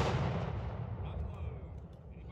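Musket volley fired by historical reenactors at a living history weekend at the Musgrove Mill battle site, a single loud boom with a long rumbling decay that fades over two seconds, no talk.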